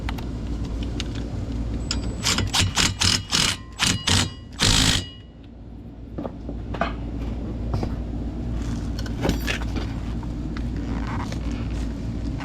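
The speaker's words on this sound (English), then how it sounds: "I'm just going to use my little impact driver." Short bursts from a small impact driver tightening bolts on a Mini Cooper front and rear brake job, about six rapid hammering rattles in quick succession, close and loud, then a steady garage hum with faint clinks.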